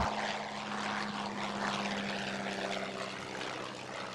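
A PT-19 open-cockpit propeller trainer airplane drones with a steady, loud engine and propeller hum throughout, alone with no talk.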